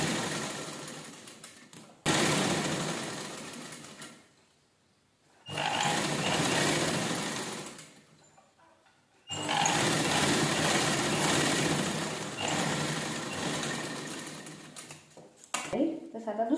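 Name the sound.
sewing machine stitching leftover blouse fabric pieces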